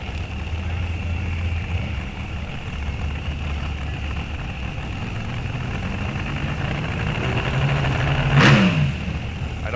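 A dragster from St. Paul Park, Minnesota runs at an NHRA National Open drag strip at Rock Falls Raceway, a steady distant engine rumble under crowd ambience that swells briefly near the end.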